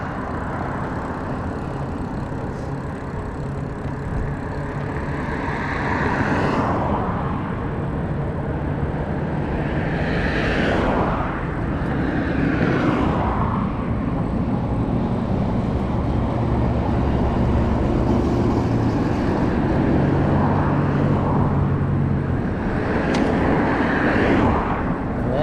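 Lectric XPeak e-bike ride at speed, its quiet motor whine buried under steady rushing wind and passing traffic, with several vehicles swelling and fading by over a long stretch.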